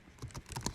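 A few quick computer keyboard keystrokes click close and crisp in a brief, uneven burst, with no voices.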